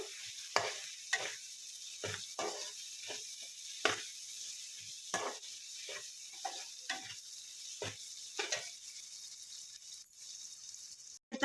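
A tempering for mango poha sizzles in a pan over a medium flame while being stirred, with repeated bursts of scraping and frying every second or so, close and fairly quiet, no voices.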